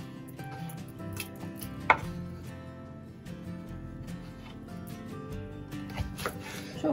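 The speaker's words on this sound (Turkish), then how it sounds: "Yine bunları da böyle doğrayalım." A knife chopping fresh broad beans on a cutting board, with soft irregular thuds and a sharper knock now and then, close but fairly quiet, over low kitchen background sound.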